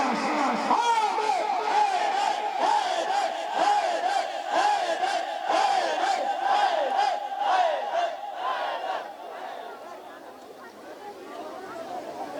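A large crowd gathered for a Muharram majlis at an imambargah chants religious slogans together, a loud rhythmic roar of many voices repeating short phrases in unison, fading somewhat toward the end.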